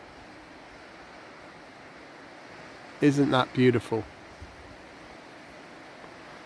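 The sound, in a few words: rushing water of a waterfall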